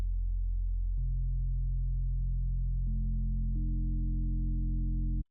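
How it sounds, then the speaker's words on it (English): A synthesized sub bass tone from the Current synth holds steady and then steps up in brightness several times as more partials are turned up. It is loud, continuous and electronic, with no voices, and cuts off abruptly at the end. "Watch what happens as I crank the partials up."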